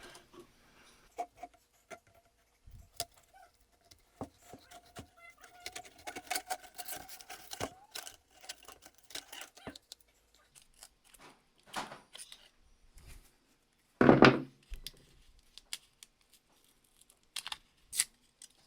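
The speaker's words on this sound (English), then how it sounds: "Since this tube is pretty much trash, I'm just gonna cut it up." Plastic exhaust vent tube from a Lotus Evora being cut up by hand, giving scattered close crackling snips and clicks with one loud crunching burst near the end, no talking.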